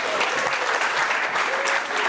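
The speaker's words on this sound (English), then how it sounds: "give this man a big round of applause" An audience at a startup pitch night claps warmly, a dense, continuous wash of applause from a crowd filling the room from start to finish.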